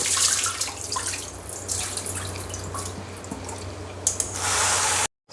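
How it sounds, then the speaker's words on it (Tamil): Mushrooms are rinsed under running water in a kitchen sink for mushroom biryani, a steady splashing stream with scattered drips, close and fairly loud, cut off abruptly near the end. "ஒரு 2-3 டைமும் சுத்தமாக அலாசிக்கலாம்."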